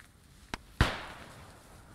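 Gunfire in the Post Scriptum battle at La Bistière: a sharp single shot, then a louder crack about a quarter-second later with a trailing echo, both fairly distant with no talk.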